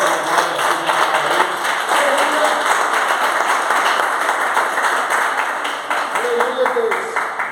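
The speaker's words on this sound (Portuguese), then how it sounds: "pode engrandecer o nome do Senhor com as palmas bem fortes" A church congregation claps steadily in rhythm while a voice speaks over it, the applause bright and continuous throughout.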